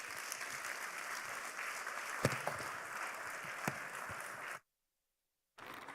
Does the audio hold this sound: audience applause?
yes